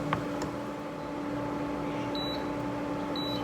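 An induction stove gives two short, high electronic beeps about a second apart, signalling an E1 error with an incompatible frying pan, over a steady hum of room noise.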